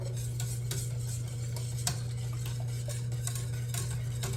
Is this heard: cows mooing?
no